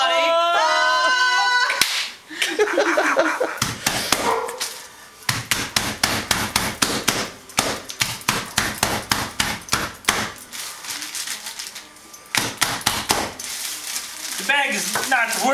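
Chicken breasts in a bag are pounded flat with loud, rapid, repeated thuds in steady bursts, split by short pauses. Brief voices come in at the start and end.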